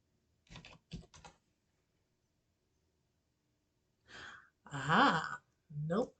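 Keys on a computer keyboard tapped in a few brief quick bursts, near and fairly quiet, separated by a pause, with sighs and breathy vocal sounds mixed in.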